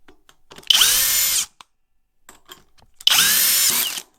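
A FLEX power drill set to turbo mode fires up twice in short, loud, high-pitched whirring bursts, close by, with a brief quiet gap between them.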